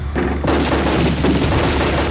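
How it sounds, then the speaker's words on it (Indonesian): Heavy artillery and gunfire from a 1947 battle in Malang between Dutch marines and Indonesian forces, a dense, continuous roar of booms and bursts filling the whole stretch at close, loud range. "Belanda membalas dengan artileri berat."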